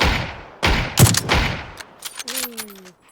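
Close, loud bursts of gunfire in the video game PUBG crack out in quick succession, a rapid fusillade followed by a few scattered shots.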